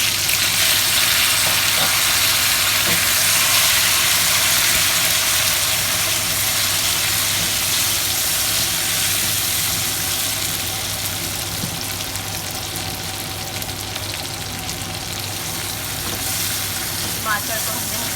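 Tomatoes added to golden-brown onions sizzle on low heat in a pan, a continuous bright frying hiss with faint stirring, easing slightly in level midway and holding steady to the end.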